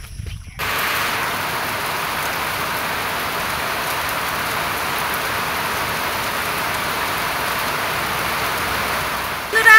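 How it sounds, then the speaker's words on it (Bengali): Light, steady rain falls throughout, a soft continuous patter on surfaces that starts right after a brief quiet opening and holds even to the end. "তো বৃষ্টি পড়ছে ঝিরঝির করে"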